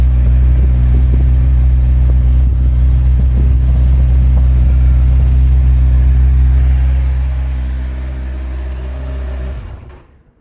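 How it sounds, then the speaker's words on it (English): A Kawasaki Ninja 1000SX motorcycle exhaust rumbles steadily at idle, deep and loud, up close, then fades out near the end. "And this is your sound of exhaust"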